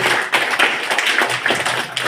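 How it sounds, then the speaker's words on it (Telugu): Audience clapping loudly at a counselling event for the elderly, a dense, continuous patter of many hands close by, with no voices. "అందరూ కూడా గట్టిగా చప్పట్లు కొట్టి వారిని దీవించాలని కోరుకుంటూ"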